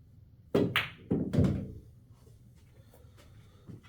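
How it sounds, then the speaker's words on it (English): Cue ball in a game of 8-ball pool striking the 7 ball off the rail: a couple of sharp, close knocks in quick succession, then quiet room tone with a faint tap near the end. "now I'm going to shoot the 7 here, and I'm going to pop off the rail"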